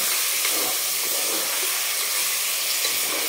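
Goat mutton sautés on a high gas flame with ginger, garlic and coconut paste, turmeric and salt, giving a continuous loud, even sizzling hiss with no pauses.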